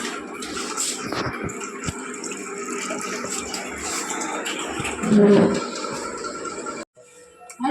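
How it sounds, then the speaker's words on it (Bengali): Hands being washed under a running tap, a continuous splashing water stream of moderate loudness with a brief louder surge near the end before it cuts off, with faint background voices. "চলো হাতটা ধুয়ে নি"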